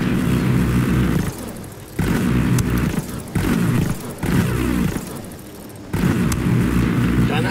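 A grenade goes off in the tactical shooter Ghost Recon Wildlands during a co-op mission, a heavy booming burst amid other thudding game blasts and rumbling noise, loud and repeated in short bursts separated by brief dips.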